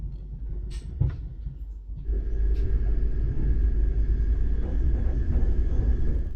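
A sleeper train running non-stop overnight on very smooth tracks produces a low, steady rumble heard from inside, with a few soft knocks before the noise swells and holds.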